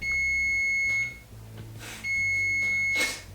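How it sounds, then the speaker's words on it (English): A kitchen appliance beeps in two long steady tones with a short pause between, close and loud, with light rustling around them. "please beep and tell me you're done"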